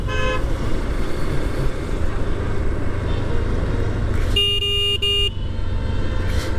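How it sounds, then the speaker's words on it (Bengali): A Honda Hornet 2.0 motorcycle horn on a road at Nabinagar, Savar: a brief toot at the start, then a louder two-part honk midway over a constant rumble of engine and traffic. "এটা হর্নটা ভালো লাগলো না আমার কাছে, হর্ন সিস্টেমটা ব্যাকডেটেড, হর্নের সিস্টেমটা আরও উন্নত করা উচিত ছিল।"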